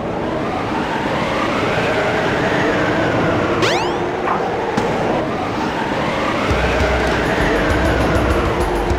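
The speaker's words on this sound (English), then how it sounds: "The train headed for Station Square will be departing soon." Train departing in the Sonic Adventure DX video game, a loud continuous rumble with a high metallic screech partway through, heavy and steady throughout with no voices.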